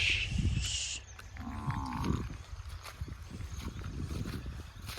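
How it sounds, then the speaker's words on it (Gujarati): Cattle low in the distance against a steady rumbling background, with faint clatter and a brief tonal hum partway through. "ઢોરો બધેલો છે બોલાવે છે"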